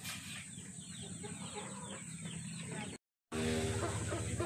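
Three-month-old Light Brahma chickens clucking steadily at close range, a dense continuous flock chatter with some crowing-like calls, briefly cut by a short gap before resuming louder.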